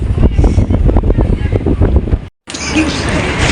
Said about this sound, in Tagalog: Oh, it's too windy.